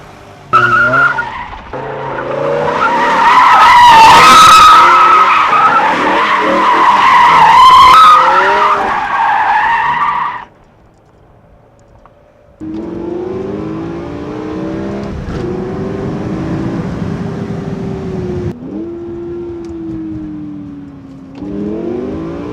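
A BMW M5's engine roars and its tires squeal loudly in long skids as it spins doughnuts, then a quieter stretch of revving and lighter tire noise follows.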